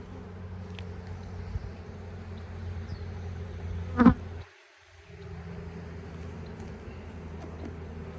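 Honey bees buzz around a hive in a low, steady drone. A brief click interrupts it and a short near-silent dip follows before the hum returns.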